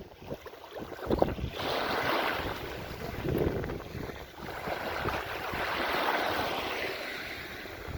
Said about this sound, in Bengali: ঢেউ অনেক সুন্দর ঢেউ